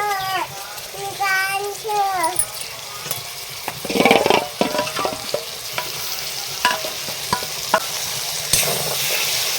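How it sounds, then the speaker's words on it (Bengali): Whisked yogurt goes into a pan of spiced potatoes frying with coriander powder, turmeric and salt. Loud sizzling follows, with repeated scraping stirs and clatters up close, and a brief high voice near the start. "এবার ফেটিয়ে রেখেছি সেই দইটা দিয়ে দেব"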